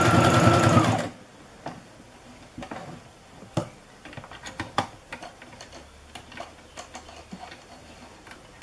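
A sewing machine runs in one loud, steady burst stitching a fabric tube for a Japanese-style wooden sandal, then stops, leaving scattered faint clicks and handling taps.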